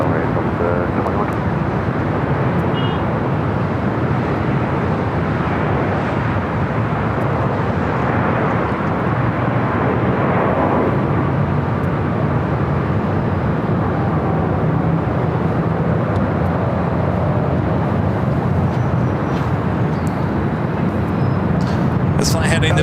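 A Delta Airlines 737-800 takes off from LAX, a broad, steady jet roar filling the whole span at close range, with radio chatter and voices talking over it.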